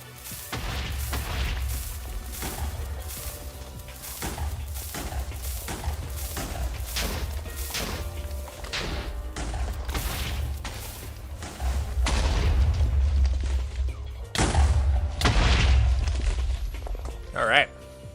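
Repeated booming TNT explosions in Minecraft while hollowing out a lava cast mountain, a rapid string of deep blasts and crashes running throughout and growing louder toward the end.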